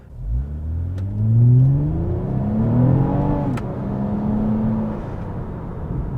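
A Toyota Camry TRD sedan's V6 engine revs from inside the cabin as it rev-matches on downshifts, with rising and falling whirring engine tones swelling and easing, moderately loud and steady with no talking.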